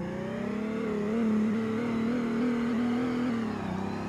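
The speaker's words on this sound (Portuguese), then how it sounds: "Vamos dar uma aceleradinha na primeira marcha?" A Ford F250 Turbo pickup in a multiplayer racing video game revs in first gear, a steady droning engine tone that rises and dips slightly, loud and continuous throughout with no talking.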